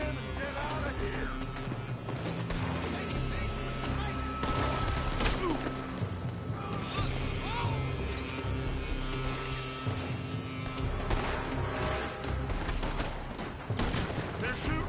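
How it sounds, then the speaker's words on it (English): Gunfire from a building in Red Dead, a steady rattle of shots layered with other game sounds, sustained and busy over a long stretch at moderate loudness, with voices in the mix. "They're shooting from that building!"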